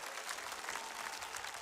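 Church congregation clapping together during a Sunday afternoon worship service, a steady, fairly quiet wash of applause that holds evenly for a moment with no voices over it.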